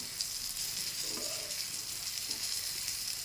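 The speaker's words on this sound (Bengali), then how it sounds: "পটলটাকে একটু ভেজে নিচ্ছি" Pointed gourd (potol) pieces frying in a pan give off a steady, soft sizzle that holds evenly throughout, with a few faint stirring scrapes and no talking.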